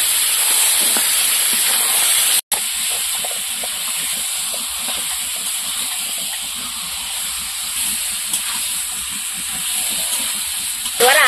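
Marinated chicken pieces hitting a hot pan of cooked spice paste for a Bengali chicken curry, producing a loud, continuous, close hiss and sizzle that holds steady, with a brief cut partway through.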